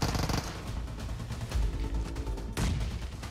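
An MG3 machine gun fires in a PUBG Mobile championship match, long rattling bursts of rapid automatic fire with heavier bursts breaking in near the middle and end, sounding fairly close.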